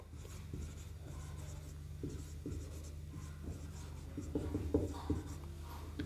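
Pen on paper, close and quiet: short scratchy strokes in an uneven rhythm that grow busier toward the end, over faint room hum.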